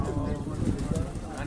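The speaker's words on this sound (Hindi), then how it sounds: "इनके पास माशाल्लाह बहुत ही अच्छी नस्ल के कबूतर हैं मौजूद हैं" Cooing from fine-breed pigeons kept for flying on a rooftop in Jahangir Road, Karachi, low and soft, running under steady background voices.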